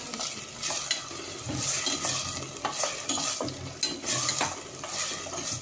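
Ground masala for mushroom biryani fries in a pan with a constant bright sizzle and crackle, a spoon scraping and stirring through it at close range, no voices.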